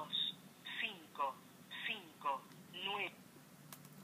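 Electronic telephone tones pulse at intervals while a call rings through to voicemail, with someone talking over them throughout.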